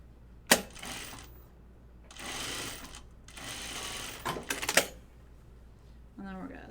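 A sewing machine stitching a button-up shirt runs in two long steady whirring bursts, separated by a sharp click and a clatter, with brief handling noises and a snippet of voice at the end.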